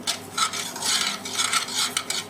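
Black mustard seeds roasting in a hot pan after the heat is switched off, giving soft, close rustling and scraping in uneven bursts, like stirring, with no voices.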